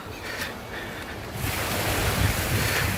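Ocean waves break and wash ashore at Colachel beach near a fishing harbour, a continuous broadband roar that swells louder midway, with wind buffeting the microphone and no talk.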